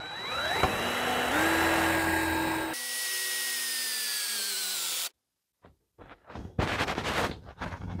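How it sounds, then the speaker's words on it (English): A power tool motor whirs steadily at high speed, its pitch shifting, then cuts out; after a pause come clattering, rattling bursts of tapping work, drilling and tapping holes for brake pedal brackets on a 1936 Chevy. "I'm gonna drill and tap these real quick."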